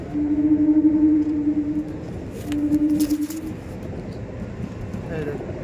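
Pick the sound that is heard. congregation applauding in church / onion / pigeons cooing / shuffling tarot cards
pigeons cooing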